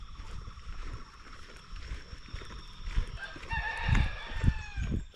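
Chickens and a rooster in Bali cluck and crow close by, the crowing rising loudly in the final seconds over a busy outdoor background.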